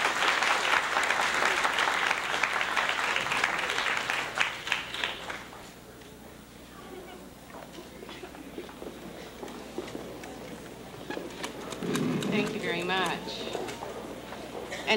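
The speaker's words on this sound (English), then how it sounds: "Let us all give our awardees a round of applause." A crowd at a graduation convocation applauds with dense clapping that fades after several seconds, followed by quieter room noise, a voice speaking, and a brief renewed burst of clapping.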